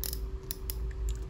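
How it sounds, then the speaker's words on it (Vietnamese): Clicking of the bail arm on a Daiwa spinning fishing reel, a few light mechanical snaps and ticks close up over a low steady hum, with no talking. "Đây là tiếng lưỡi gạt của máy,"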